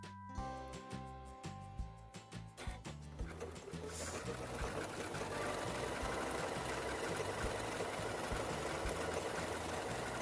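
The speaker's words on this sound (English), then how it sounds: "I'm going to sew in the middle again" Quilt fabric backed with stabilizer is stitched on a sewing machine, starting with a few separate pulses and then settling into a steady continuous run that stays fairly quiet throughout.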